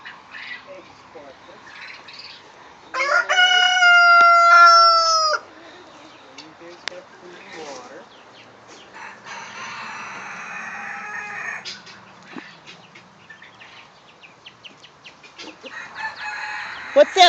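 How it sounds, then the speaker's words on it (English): A baby chick chirps loudly on a farm during chores, a shrill burst of cheeping standing out near the start, followed by quieter scratching, rustling and faint chatter. "No, it's a baby chick."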